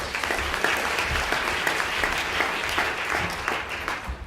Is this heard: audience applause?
yes